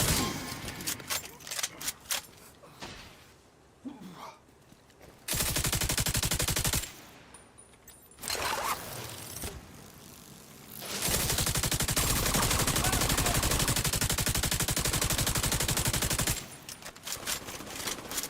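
Sustained bursts of automatic gunfire from a shooter video game, with long loud stretches of continuous rapid fire broken by quieter gaps holding scattered shots and faint voices.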